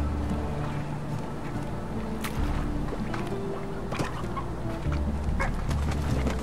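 Chicken clucking in the Slime Rancher video game, soft repeated clucks over a steady low game ambience with a droning background tone, no talk.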